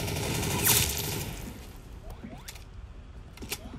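Gunfire in the Roblox game Arsenal, a quick burst of rapid synthetic shots at the start followed by a few scattered sharp single shots and mechanical clicks, fairly faint overall.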